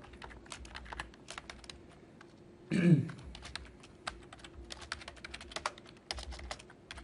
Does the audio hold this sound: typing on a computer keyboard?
yes